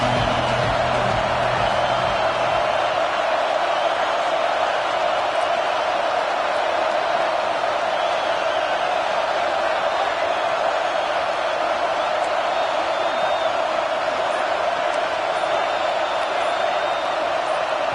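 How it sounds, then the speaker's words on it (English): A packed football stadium crowd in a Madden game roars and screams nonstop, a dense, loud wall of cheering that holds steady throughout. "The Wolfpack faithful screaming at the top of their lungs"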